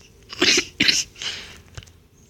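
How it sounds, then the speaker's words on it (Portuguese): A hoarse woman coughs three times in quick succession, each a rough, breathy burst that fades into a short, softer rasp in an otherwise quiet room. "Eu acabei de tossir mais um pouquinho."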